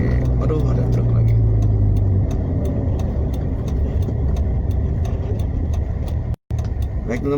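Road noise while driving with a truck nearby, a loud, continuous engine rumble and a falling tone early on, with a person talking over it and a brief dropout near the end.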